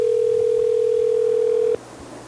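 A steady telephone dial tone hums loudly and continuously for nearly two seconds, then cuts off abruptly, leaving faint room noise.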